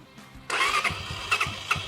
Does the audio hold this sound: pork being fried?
no